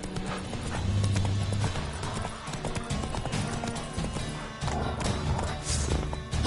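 Geralt's horse Roach from the video game The Witcher galloping, a rapid continuous clip-clop of hooves close by with a whinny, some game sound and voice mixed in underneath.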